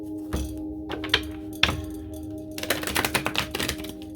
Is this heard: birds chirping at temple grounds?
no